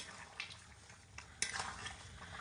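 A spoon stirs potato curry with garam masala in a pot, giving faint scraping and clinking against the metal with a light sizzle underneath and one sharper knock partway through.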